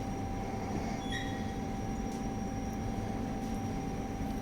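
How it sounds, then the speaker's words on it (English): A Thameslink train stands at Luton Airport Parkway station, with a steady low rumble and hum of the train and a faint tonal whine throughout, no voices. "This train terminates at Rainham."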